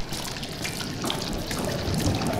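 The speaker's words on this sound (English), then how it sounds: "The ink drips." Ink drips and trickles in the video game Bendy and the Dark Revival, a dense, close, liquid pattering and splashing that goes on without a break, with no voices.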